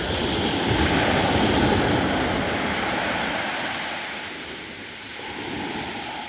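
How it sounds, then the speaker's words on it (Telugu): Ocean waves roll in on Sur Beach in Oman at night, a steady broad wash of surf with slow swells that rise and ease back, mixed with some wind noise and no voices. "నైట్ టైం అలలు చాలా ఎక్కువగా వస్తున్నాయి."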